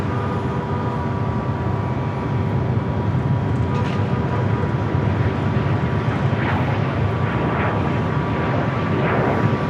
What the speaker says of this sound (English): Next arrival at Japan Airlines Flight 60, coming up from Osaka, 787-9 Dreamliner